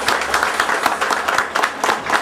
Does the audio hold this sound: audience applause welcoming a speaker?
yes